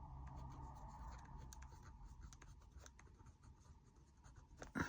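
Pen with a rubber eraser on the end scratching steadily across paper at close range, a continuous soft scribbling texture with small taps, ending in a louder rub.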